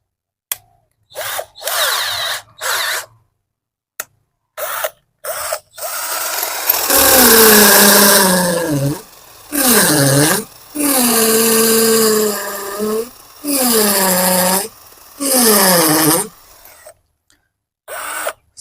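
A cheap G11B1 cordless drill with a 10 mm bit revs in short bursts, then bores continuously with a strained, slowing motor as its battery struggles, stopping and restarting several times; close and loud.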